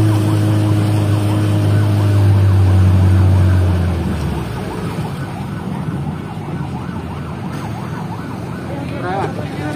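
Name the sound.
ambulance siren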